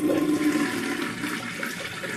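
Running tap water pours steadily into a bowl while a shaving brush is rinsed, a continuous close rushing splash with no talk.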